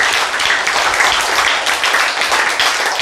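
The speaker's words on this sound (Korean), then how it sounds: "박수!" Dense applause from a lecture audience fills the room, loud and steady throughout with no pauses, many hands clapping together at close range.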